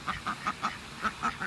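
Ducks quacking in a series of about seven evenly spaced, nasal calls, fairly close and moderately quiet, with no voices over them.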